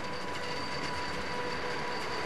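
Flåm Railway train running through Norwegian scenery, a continuous steady rumble and hum of the carriage in motion, heard from on board with a faint tonal whine and no talking.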